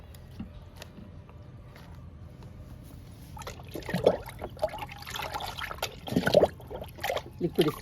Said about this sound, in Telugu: రెండవ దానిమ్మ మొక్కకు కూడా ఇద్దామండి కిచెన్ వేస్ట్ లిక్విడ్.